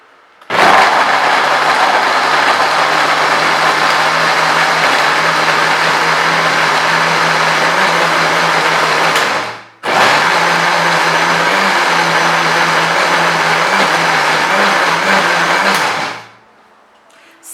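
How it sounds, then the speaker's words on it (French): An electric mixing appliance blending a paste with water, a loud steady motor whir that runs for about nine seconds, stops briefly, then runs again for about six more. "nous allons brancher notre appareil. Ensuite, nous allons mélanger le tout."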